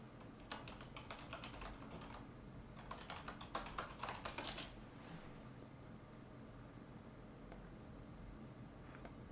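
Bursts of quick typing on a computer keyboard, clusters of sharp key clicks close by, then a quieter stretch with only a faint room hiss and a few stray taps.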